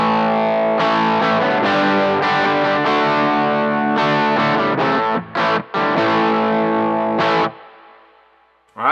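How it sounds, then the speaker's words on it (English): Electric guitar through an overdrive dirt pedal on a Line 6 HX Effects unit, strummed chords ringing loud and close, with a few brief stops and a final chord fading out near the end. "that's just a good run-of-the-mill overdrive"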